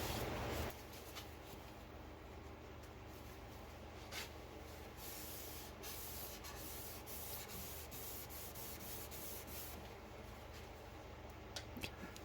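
A natural-edge sissoo wood platter on a lathe receiving sanding sealer: a steady, faint rubbing hiss that runs unbroken for about twelve seconds, with a brief louder scrape at the start and a few soft ticks near the end.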